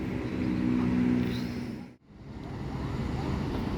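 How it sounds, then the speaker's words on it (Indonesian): NPM Sultan Class bus pulling into a bus terminal, its engine a steady low rumble that swells, dips briefly to a hush and rises again, with wind buffeting the microphone. "ada unit bus NPM lagi, kali ini Sultan Class yang masuk ke terminal masih dari arah Bukit Tinggi"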